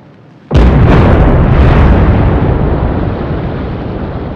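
A 1946 nuclear bomb detonation at Bikini Atoll in the Pacific: a sudden loud blast that swells into a deep, sustained roaring rumble, slowly fading.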